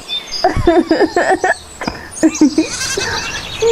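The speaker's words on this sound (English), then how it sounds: "Hurry up and carry the goat them." A goat bleats in a run of wavering, nasal calls, loud and close, then again after a short pause, with crickets or insects chirping faintly in the background.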